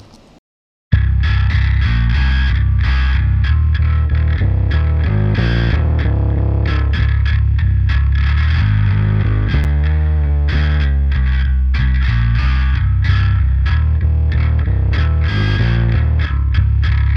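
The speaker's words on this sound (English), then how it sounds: "It's adding distortion on the low end" Bass guitar through the Mammoth Bass plug-in with its Growl control adding gritty distortion on the low end, a continuous distorted bass line playing alone after a brief silent start.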